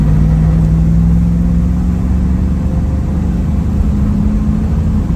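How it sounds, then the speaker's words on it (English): A 1967 Chevrolet Camaro RS SS 350 with its numbers-matching V8 pulls away, the steady engine drone loud and close throughout, its pitch rising gently with speed as it works up through the gears. "Get up to speed here and let it shift through the gears a little bit."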